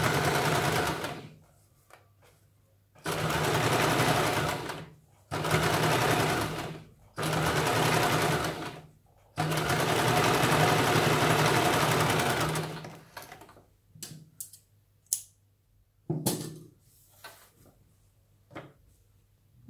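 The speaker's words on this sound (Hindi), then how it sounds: "यहाँ पे हम किनारे पे इसके किनारे पे सिलाई लगानी है।" A sewing machine stitches along the edge of a princess-cut blouse, running in several loud, steady bursts of a few seconds each, then stopping for fabric handling with small clicks and taps.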